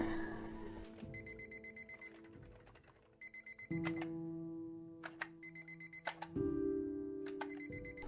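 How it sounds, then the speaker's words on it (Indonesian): A loud alarm clock rings in repeated bursts of bright electronic tones, pausing briefly between cycles and then starting again. "Ia mendengar suara alarm yang berbunyi sangat keras."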